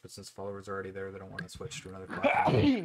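A single loud sneeze bursts out right after a stretch of steady indoor talk, with the speaker's voice continuing just before it.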